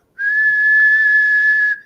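A single sustained, high-pitched whistle, steady and clear, held for about a second and a half, likely a voice imitating the sound.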